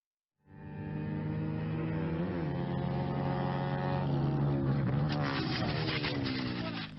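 Motorcycles in an illegal street race on Jalan Sumber Kaliori in Rembang, ridden without helmets, sound as a steady, loud engine drone that enters after a brief silence and holds throughout, with rising and falling pitch sweeps as they pass.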